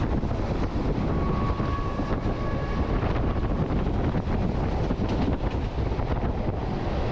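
Local train no. 426 arrives at Huai Thalaeng station, with a loud, continuous onboard rumble of wheels and carriages, heavy wind buffeting and a brief thin tone in the middle.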